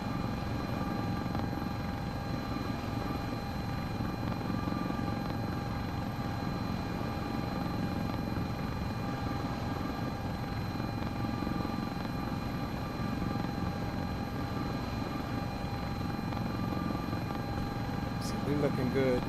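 A Sikorsky S-76C++ helicopter in the CowanSim flight simulator climbs at cruise, its steady rotor and turbine drone constant and even throughout, with a voice talking over it.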